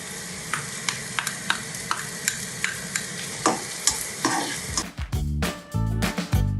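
Garlic frying in hot oil in a pan while preparing fish fry, with steady sizzling and repeated sharp stirring scrapes, then a louder burst of crackling toward the end; no talking.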